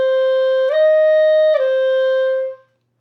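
A single sustained wind-instrument note with a small hitch in the F-to-D finger change, where the fingers don't move together, giving two brief blips in an otherwise steady tone before it fades out, played alone.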